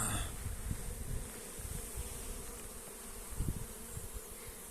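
Honeybees buzz steadily around a hive outdoors in a continuous soft, dense drone, with occasional louder passes of individual bees near the microphone and no voices.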